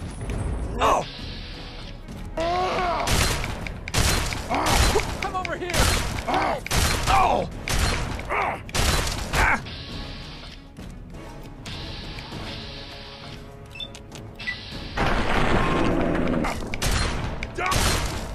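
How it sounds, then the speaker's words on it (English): Repeated loud shotgun blasts from Fallout 3 gameplay, broad booming bursts at irregular intervals amid clattering game effects and a voice talking between shots. "Try the shotgun."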